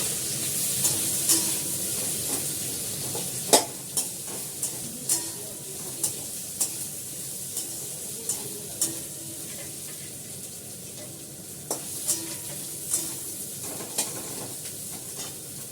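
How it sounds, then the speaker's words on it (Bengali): Chow mein noodles fry in a pan with a steady sizzle and hiss, broken by regular clacks and scrapes of a utensil stirring and tossing, close by and alone. "ওইগুলো ভাজা করে নিচ্ছি। চাউমিন একটাই প্যাকেটে করছি"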